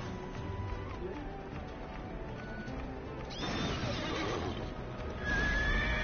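Horse neighing with hooves clip-clopping in a video game, a whinny and running footfalls over a steady in-game background, getting louder toward the end.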